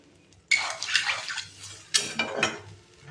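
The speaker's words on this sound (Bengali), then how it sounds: "ওই জন্য একটু অল্প পরিমাণে জল দিলাম, শুধুমাত্র যাতে আলুগুলো সিদ্ধ হয়ে যায়" Water poured into a pan of potato and eggplant curry with eggs, two splashy pours close by, the second after a brief pause, no talking.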